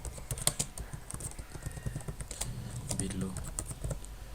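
Typing on a computer keyboard while writing HTML in Sublime Text 3: steady, fairly quiet key clicks in a quick irregular patter, with a person talking softly at the same time.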